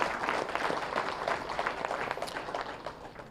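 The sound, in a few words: loud applause at meditation event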